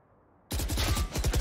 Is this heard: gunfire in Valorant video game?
yes